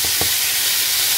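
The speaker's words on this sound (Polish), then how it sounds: "Wołowe mięso mielone się smaży na całego." Ground beef fries hard in a pan in a home kitchen in Thailand, a loud, dense, continuous sizzle and hiss with a couple of soft scraping stirs near the start.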